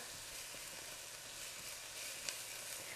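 Celery and onions frying in a pot give a soft, steady sizzling hiss that stays faint and even throughout, with no voices.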